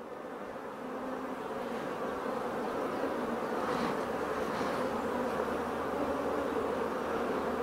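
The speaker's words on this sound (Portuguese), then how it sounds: "E as crias que estavam aqui fechadas, ó, aqui vai nascer uma abelha, ó." Honeybees buzzing over a brood frame from a hive as a new bee chews out of its capped cell, a dense continuous drone of many wings, close and steady with no talk.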